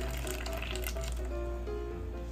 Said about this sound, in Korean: 커피포트에다 물을 끓였어요. 끓는 물을 유리 그릇에 이렇게 쏟았어요.